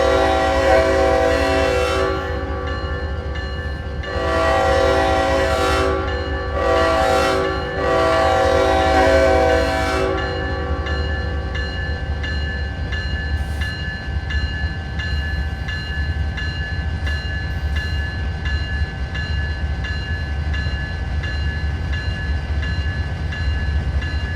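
A Norfolk Southern ES44AC diesel locomotive horn blares in several long blasts over the steady rumble of a passing manifest freight train, followed by continuous rolling rail noise.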